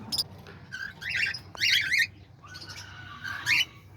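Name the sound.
pet birds chirping in aviary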